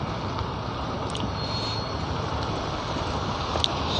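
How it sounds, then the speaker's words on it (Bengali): Heavy road traffic in a jam at night, a dense steady rumble of engines and passing vehicles close by, with a faint horn or squeal near the end. "সামনে গাড়ি আসছে, গাড়িগুলো একটুখানি ক্লিয়ার হোক। প্রচণ্ড গাড়ির চাপ, প্রচণ্ড।"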